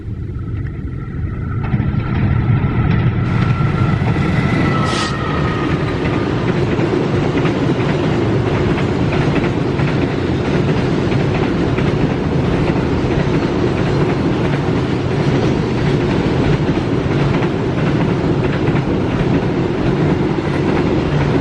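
A train rumbles past steadily and loud, with a constant roar of wheels on rails and a brief high screech near the start.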